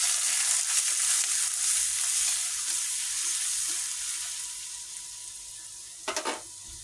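Ginger paste and turmeric fry in hot oil tempered with five-spice and nigella seeds, a strong sizzle that gradually calms, then a short burst of spatula scrapes against the pan.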